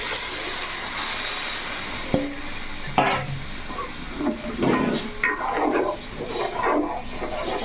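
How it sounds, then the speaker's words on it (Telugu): Fish pieces fry in a pan with a steady close sizzle, broken by several louder bursts of stirring and scraping in the second half; no talking. "ముక్కలు అయితే బాగా వేగుతున్నాయి కదా"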